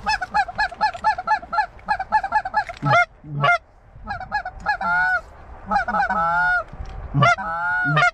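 Canada geese honk loudly and repeatedly as they fly in, with bursts of overlapping calls broken by short pauses, close and clear, with no talk.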